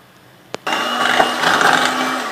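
An electric hand mixer whirs steadily as it beats cream cheese, condensed milk and vanilla essence for a no-bake blueberry Oreo cheesecake, starting abruptly after a short knock and holding a loud, even motor drone.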